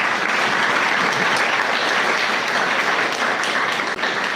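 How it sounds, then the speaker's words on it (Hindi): A roomful of students at a lecture camp claps together in steady, dense applause, loud and sustained throughout with no talking. "वेरी गुड, ताली बजाओ"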